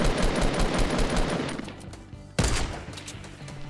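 Rapid automatic gunfire from Fortnite Battle Royale rattles loudly and densely for about two seconds as a wall is shot, pauses briefly, then a second loud burst of shots resumes.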